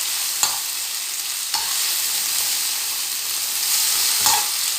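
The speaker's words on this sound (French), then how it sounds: "Et vous mélangez." Green beans with parsley being stirred in a hot pan, a constant sizzle broken by three sharp scrapes of the utensil against the pan.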